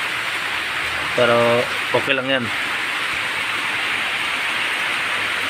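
Heavy rain pours down as a steady, loud hiss that runs through the whole stretch while a person talks briefly over it.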